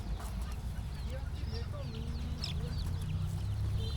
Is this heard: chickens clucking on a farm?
yes